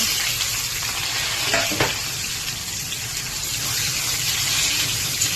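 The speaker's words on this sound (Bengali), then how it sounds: "তো আমি আবার আলুটা আগে ভেজে নেই। তো আলুটা দেখো লাল লাল হয়ে গেছে" Potato pieces frying in oil in a pan, a loud steady sizzle with brief stirring scrapes near the start, close and continuous with no talking.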